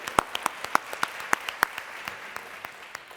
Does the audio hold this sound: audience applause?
yes